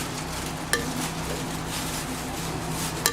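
Beef biryani rice being stirred and mixed in a cooking pot, a steady scraping rustle with two sharp utensil clinks against the pot's side, close and continuous with no talking.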